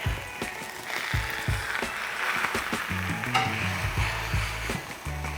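Smash burger patties sizzle steadily on a hot Blackstone griddle, with a spatula scraping and clicking against the flat-top, continuous close frying hiss throughout.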